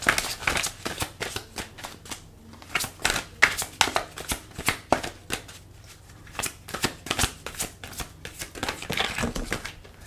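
Oracle cards being shuffled and drawn up close, with repeated crisp riffling flicks and slaps in uneven bursts, separated by short quiet pauses.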